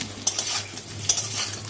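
Potatoes frying in a pan and being stirred, with a soft sizzle under two sharp metal spoon scrapes against the pan.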